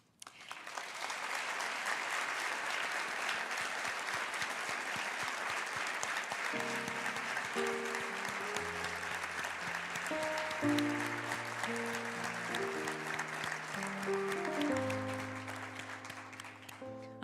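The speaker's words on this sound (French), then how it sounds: "Je n'ai même pas besoin de vous dire d'applaudir. Vous vous applaudissez" Clinic team members applaud themselves, standing at their places during a university distinction ceremony; steady crowd clapping fills the room throughout while sustained musical tones rise in beneath it partway through.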